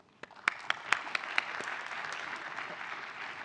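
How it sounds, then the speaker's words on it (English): Audience applause at a spine research conference prize session: a few sharp individual claps start it, then a steady wash of clapping from the room settles in and fades slightly, with no talking over it. "So a big applause."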